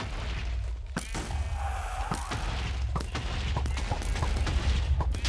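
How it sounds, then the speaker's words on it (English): Rocket launcher fire against the Wither in Minecraft: a series of sharp blasts and booms, several shots spaced irregularly over a constant rumbling game background, fairly close and loud. "Let's fight the Wither with our rocket launcher."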